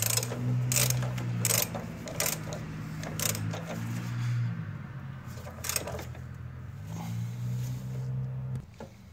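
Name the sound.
ratchet tightening engine bolt on 2008 Mazda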